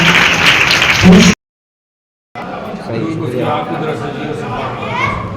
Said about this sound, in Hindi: आए खुदावन के लिए जोरदार तालियां बजाएंगे।